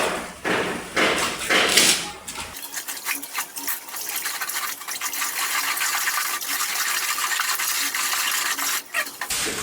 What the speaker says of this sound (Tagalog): Yan, na-mix ko na yung semento.